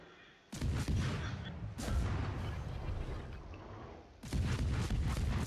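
Heavy naval guns on the French destroyer Guépard firing high-explosive shells in a warship game, three loud booming salvos with rumbling decay between them, close and dominant with no voices.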